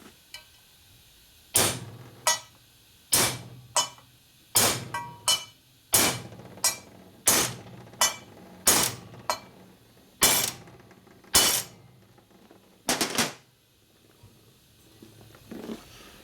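A hammer drives bushings into a 1961 Harley Sportster XLCH transmission case with firm, sharp metallic taps, about a dozen close, loud strikes at a steady pace of roughly one per second, with a quick double hit near the end.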